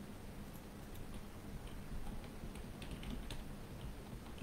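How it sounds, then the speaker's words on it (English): Rapid, steady typing on a computer keyboard: light clicking keystrokes in a continuous run over a low background hum, with no talking. "I'm going to type it in the chat"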